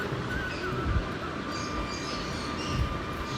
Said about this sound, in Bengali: এবার আমি মাছগুলোকে এক এক করে তেলে দিয়ে ভেজে নেব।